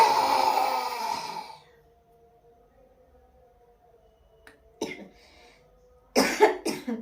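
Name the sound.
coughing during yoga squat exercise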